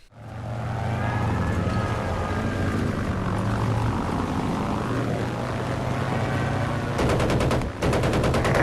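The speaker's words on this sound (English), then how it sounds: "bullets whiz by your head with startling snaps, and there are always the heart-stopping whooshes as planes dogfight overhead" Droning propeller aircraft engines roar continuously, swelling and passing, with rapid bursts of machine-gun fire crackling near the end, from a dogfight in the video game Battlefield 1943.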